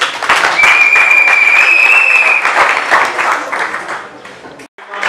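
An audience at an open-house event for a Congolese wrestling association applauds a member as he stands, loud sustained clapping from a nearby crowd, with a whistle or cheer riding over it before it fades out.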